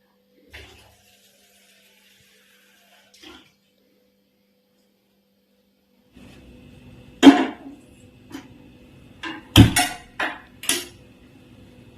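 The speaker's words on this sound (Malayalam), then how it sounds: "ഇതന്നെയായിരിക്കും ചായ വയ്ക്കുന്ന പാത്രം" Pots and vessels clank in a kitchen while tea is being made, starting with near silence and faint taps, then a series of sharp metallic knocks and clatters close by.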